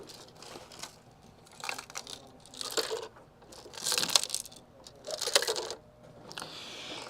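Loose plastic bits rattling inside an old Super Nintendo console as it is shaken, several bursts of dry, maraca-like clatter, quiet and close, separated by brief pauses.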